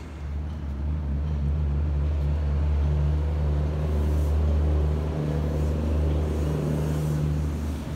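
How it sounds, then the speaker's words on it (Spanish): Steady traffic on the Zamora–Zacapu–Morelia highway in Mexico, a continuous low rumble of cars and engines passing close by with no break, no voices heard. "pasan por ahí los carros en la carretera Zamora, Zacapu, Morelia"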